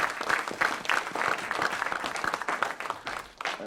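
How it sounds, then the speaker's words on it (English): Audience members seated at a conference closing panel clap in a lively round of applause, dense and close, with individual claps standing out in a quick irregular patter. "So I just want to give a round of applause to you all sitting here."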